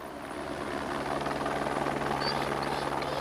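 Steady, loud drone of a helicopter carrying dog teams over hill country, a continuous rotor and engine roar holding level with no voices.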